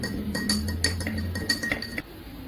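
A metal spoon stirring salt into a glass of water, quick repeated clinks against the glass in an uneven rhythm, close and clear, stopping just before the end.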